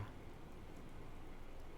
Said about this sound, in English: It's a good night to walk in the rain, to let it wash over you.